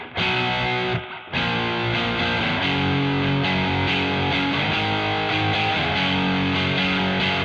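Electric guitar pushed through heavy distortion into a Marshall amp, playing sustained, saturated chords and notes loud and alone, with one brief break near the start before the fuzzy wall of sound resumes.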